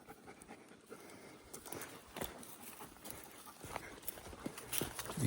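A dog pants steadily while trotting along a rocky hill-country trail at Colorado Bend State Park, quick breaths up close, with footsteps and the crunch of ground beneath.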